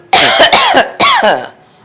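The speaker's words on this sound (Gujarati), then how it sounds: "આ બે દિવસથી ખાંસી થઈ ગઈ છે" Three loud, close coughs in quick succession, harsh and slightly voiced, then quiet.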